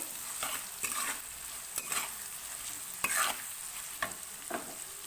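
Spice paste with ginger paste sautéing in a pan for a Bengali chana dal, a continuous close sizzle with repeated rhythmic stirring scrapes, no voices.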